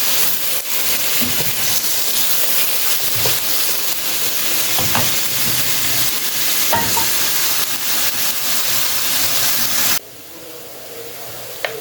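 Potatoes fry with a steady sizzle and occasional stirring clicks and scrapes, continuous and fairly loud, dropping to a quieter hiss near the end.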